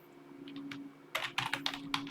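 A command is typed on a computer keyboard: a few faint taps first, then a quick close run of about eight crisp keystrokes over a low steady hum. No one talks.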